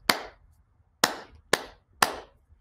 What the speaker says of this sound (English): they would clap